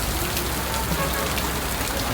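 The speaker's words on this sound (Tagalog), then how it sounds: "Sa ulan, pare. Basa talaga." Rain falls steadily in a city street, a dense, even hiss of drops striking surfaces, close and continuous for the whole moment with no talk over it.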